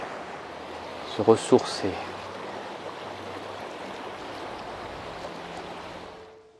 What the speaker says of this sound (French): Un petit torrent, paisible, tranquille. Écouter le bruit de l'eau qui coule.